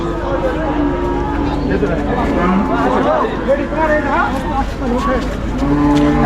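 Buffaloes moo at a busy cattle market, several loud, drawn-out calls rising and overlapping against a constant crowd din, with people talking throughout.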